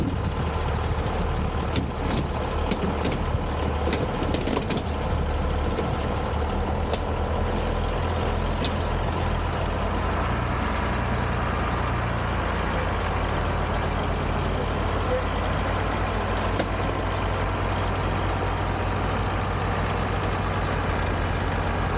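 Allis-Chalmers tractor engine running steadily with a low, continuous rumble throughout, loud and close, while the tractor pulls to rescue a sunk trailer, with a few brief clanks early on.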